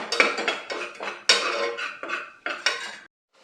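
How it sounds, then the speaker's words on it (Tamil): A spoon scrapes and clanks against a pan while green chilies and ginger are stirred in ghee for pongal, a series of close metallic knocks and scrapes in an uneven rhythm before falling quiet. "பச்சை மிளகாவும் இஞ்சியும் சேர்த்து நம்ம வந்து இனி வதக்கணும்."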